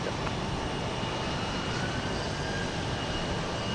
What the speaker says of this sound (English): This one's going to Raleigh-Durham, North Carolina. This 737-700.